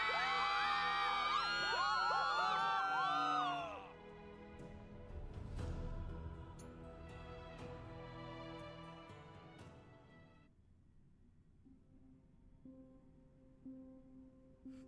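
A crowd of voices cheers and whoops together in one unanimous outburst, loud and dense at first, then falls away to a quieter murmur with scattered shouts.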